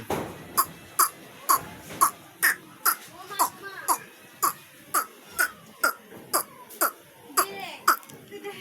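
A person imitates a heron's call with his voice, giving a steady series of about fifteen short, harsh, croaking calls spaced evenly, close and moderately loud.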